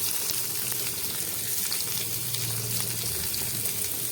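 Chopped onions frying in hot oil for a bitter gourd dish, a dense continuous sizzle close up with faint stirring, no voices.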